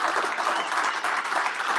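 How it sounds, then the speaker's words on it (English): A crowd at a Greater Midwest auctioneer competition breaks into a brief, full round of applause, dense and even clapping from many hands throughout. "Can we give Jared a big round of applause"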